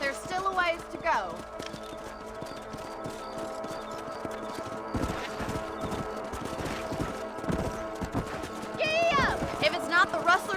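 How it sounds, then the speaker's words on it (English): Horse hooves clip-clop in Red Dead Redemption, a steady rhythmic clatter at moderate distance that runs under voices, with a couple of whinny-like calls in between. "Let's get back on the horses and see what else is going on."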